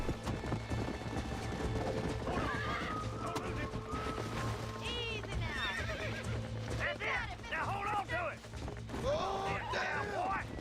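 A horse in the Red Dead Redemption video game whinnies and neighs repeatedly over steady clip-clop hoofbeats, loud and close, with game music and effects underneath.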